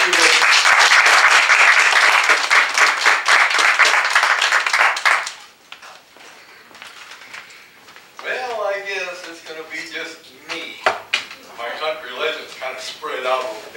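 An audience at a country music show gives a band a loud burst of applause and clapping that lasts about five seconds and then cuts off, followed by someone talking over a quieter room.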